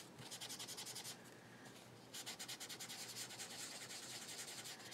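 Steady rubbing and swirling of a fingertip over a surface during a craft project, a close, continuous scratchy friction that pauses briefly and resumes with a faint rhythmic pulse.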